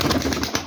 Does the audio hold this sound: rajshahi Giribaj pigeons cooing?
yes